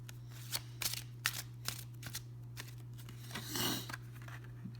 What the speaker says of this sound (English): So I am shuffling the cards.